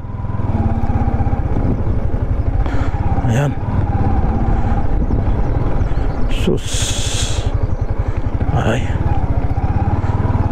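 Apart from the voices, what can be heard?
motorcycle riding on a rural road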